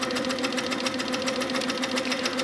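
Sewing machine stitching rapidly during free-motion quilting of feather patterns, a close, steady mechanical whir with a fast even needle rhythm and no talk.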